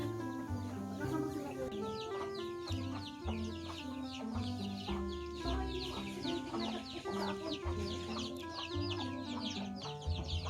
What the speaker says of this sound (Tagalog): Dami itik.